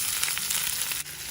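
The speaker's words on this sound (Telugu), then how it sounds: "ఇలా తాలింపు వేగాక దీనిలో ఉల్లిపాయ ముక్కలు వేసి వేయించుకోవాలి" Onion pieces hitting oil already tempered with mustard and cumin seeds, giving a bright, dense, close sizzle that stays steady and briefly dips near the end.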